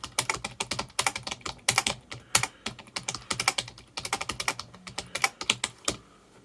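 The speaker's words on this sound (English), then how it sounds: "So if I type in here and just listen to the sound that this makes" Fingers type on a Rock Candy computer keyboard, being repaired after its batteries leaked, with quick clustered plastic key clicks in uneven bursts, close and clear, with no voices.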